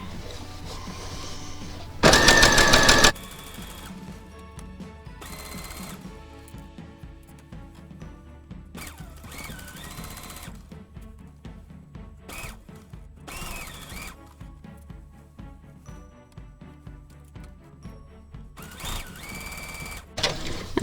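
A sewing machine stitches a vest in short, rapid mechanical bursts separated by pauses, with one louder whirring run near the start.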